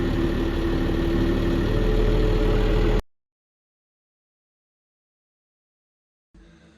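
A tractor engine idles steadily and loudly at close range for about three seconds, then cuts to silence before a brief burst of low rumble returns at the end.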